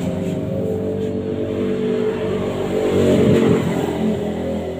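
A Yamaha Sniper 150 motorcycle fitted with an aftermarket pipe idles and revs steadily nearby, its engine note swelling louder around the middle before settling back, with no talk over it.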